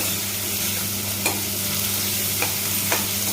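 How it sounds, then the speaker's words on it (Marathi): Finely chopped onions sauté in a pan for a spicy paneer masala, a steady broadband sizzle holding throughout with a few brief stirring scrapes standing out, no voices. "दोन कांदे मोठे असे बारीक असे चॉप करून घेतलेले आहेत ते टाकू आपण याच्यामध्ये आणि ह्याला पण आपल्याला छान असं तांबूस कलरवर परतून घ्यायचं"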